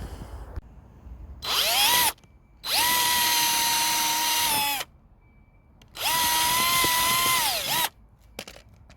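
Power drill boring a hole into a dead log outdoors, three long whining runs with rising and falling pitch as the motor spins up and down, separated by short pauses, loud and close.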